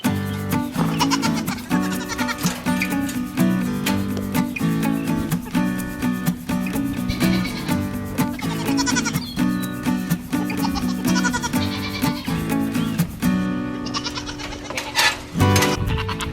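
Several baby Nigerian Dwarf goats bleat repeatedly at close range on a farm, their overlapping cries coming in quick, loud bursts with few pauses.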